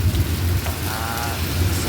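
Heavy rain pours down steadily, a dense even hiss of drops on surfaces with a low rumble underneath, loud and continuous throughout.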